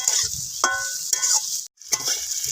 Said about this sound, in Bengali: সব উপকরণটা আমি একসঙ্গে ভালো করে নেড়ে দু থেকে তিন মিনিট মতো ভেজে নেবো